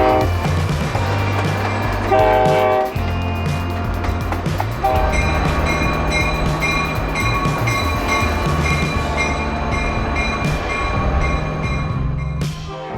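A San Luis and Rio Grande Railroad train with a dome car rolls in, its loud steady rumble joined by sustained horn tones and a brief high toot partway through.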